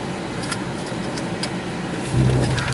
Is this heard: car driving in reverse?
yes